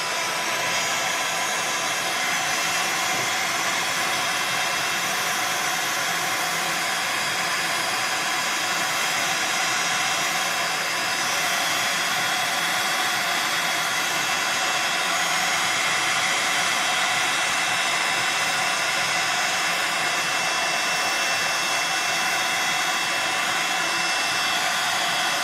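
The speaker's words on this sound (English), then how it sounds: "so I'm going to heat it from the back." Heat tool blowing steadily to dry glitter on an art journal page, a loud, constant close-up hiss and whirring drone holding unchanged for over twenty seconds with no talking.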